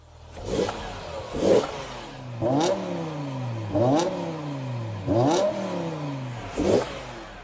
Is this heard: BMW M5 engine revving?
yes